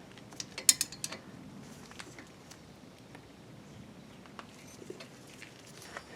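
Wrench working a brake caliper bolt on a Kia Sportage front brake, a few close metallic ratcheting clicks and clanks, sharpest near the start, then quieter intermittent ticks and creaks.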